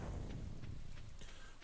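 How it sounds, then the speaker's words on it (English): Rain falls steadily in Stardew Valley during a fishing trip at a dock, a constant dense hiss with faint scattered patter, even and unbroken throughout. "For we are fishing in the rain."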